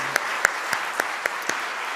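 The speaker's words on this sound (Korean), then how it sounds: "우리 박수로 한번 축하합시다" A handful of scattered hand claps, evenly spaced and fairly faint, ring out at a church seminar for elders and teachers, with no other sound around them.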